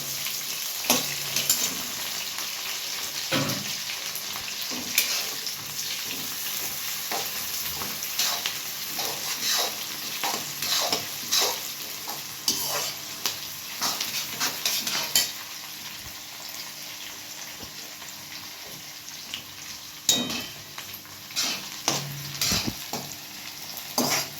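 Three medium onions frying in oil in a pan for a restaurant-style dum aloo, a steady dense sizzle with intermittent scrapes and stirring clatter of a utensil against the pan, no voices.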